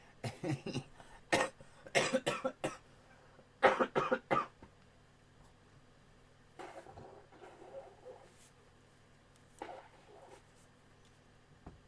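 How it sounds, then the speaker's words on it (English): Several bursts of harsh coughing in quick clusters, fairly close, followed by quieter rustles and a couple of softer coughs later. "Had to cough."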